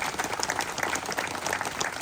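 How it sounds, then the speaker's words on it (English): Outdoor crowd applause for state park staff at a campground ribbon-cutting ceremony, a fairly faint, steady patter of many hands clapping. "Let's just have a round of applause for the great public servants of DCNR."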